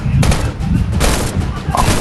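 Rapid bursts of automatic gunfire crackle loudly and up close in the Black Strike shooter video game, several volleys in quick succession with a voice briefly heard among them.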